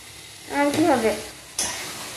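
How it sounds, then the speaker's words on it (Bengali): Masala fries and is stirred in a pan, giving a steady sizzle with a brief scraping stir in the middle and a sharper sizzle burst near the end. "রান্না করতে দাও মশলাটা"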